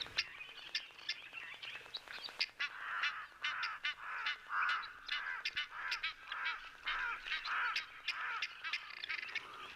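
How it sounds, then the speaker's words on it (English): Egyptian geese honk in the bush, a faint, busy stream of repeated harsh honks and cackles overlapping in irregular bursts throughout. "Yes, my beloved Egyptian geese, we hear you."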